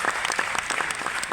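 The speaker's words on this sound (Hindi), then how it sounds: "ताली बजा ली" A large crowd at a leadership training session in Kolkata Science City applauds with steady, fairly close clapping that carries evenly through the moment without voices.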